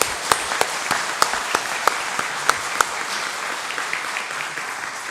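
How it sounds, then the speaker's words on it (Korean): A church congregation applauds during a Sunday worship service, giving a steady wash of clapping with several sharper individual claps standing out near the start, fairly close and even throughout, with no one speaking. "격려의 박수 하겠습니다."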